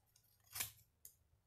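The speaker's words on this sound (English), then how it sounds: "Then you're going to take your scissors and you're going to start" Scissors snip through a folded paper coffee filter during a kids' flower craft, one crisp close cut followed by a lighter second snip, quiet and alone.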